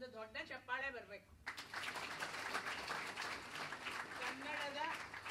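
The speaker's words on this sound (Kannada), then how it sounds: "ಒಂದು ದೊಡ್ಡ ಚಪ್ಪಾಳೆ ಬರಬೇಕು" A spoken voice, then audience applause bursts in and continues steadily to the end at a Kannada Ramayana discourse event, with a voice briefly heard over the clapping.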